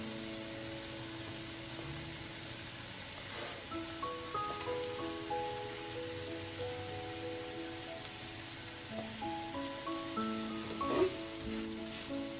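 Red cabbage sizzling in a pan of cauliflower stir fry, a steady soft crackle with brief clinks of utensils, and no talking.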